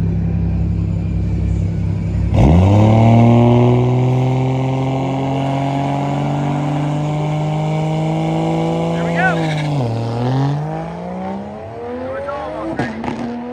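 A Toyota Supra drag racing at Bandimere Speedway, its engine revving at the line, then launching into a loud, rising roar that climbs through the gears and drops away abruptly, with someone talking over it.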